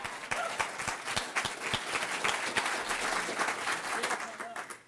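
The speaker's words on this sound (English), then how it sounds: "Can I get a round of applause?" An audience at a Rotary district seminar applauds, a dense, steady wash of many hands clapping at moderate distance, filling the whole stretch and fading slightly at the end.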